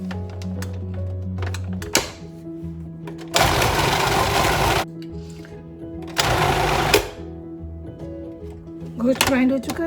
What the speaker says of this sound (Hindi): इसके बाद नेक्स्ट हम गोश्त ग्राइंड करेंगे,